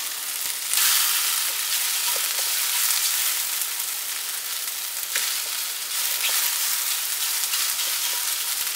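Steady, close sizzling of homemade glucomannan shirataki noodles frying in a pan, a continuous bright hiss with a few faint pops and no talking.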